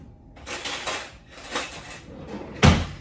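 Metal cutlery clinks and rattles close by as a fork is grabbed in a homestead kitchen, a few bright scraping jangles ending in one sharper clatter, with no talking.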